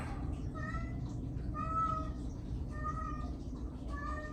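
A chubby house cat whines and cries in a run of repeated plaintive meows, moderately loud over a steady low room hum.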